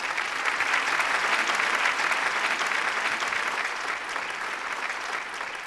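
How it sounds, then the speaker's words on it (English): Audience at a CEO awards ceremony giving the finalists a warm round of applause, a full, loud, steady roar of clapping that holds for several seconds and eases slightly toward the end. "Let's all give them a warm round of applause,"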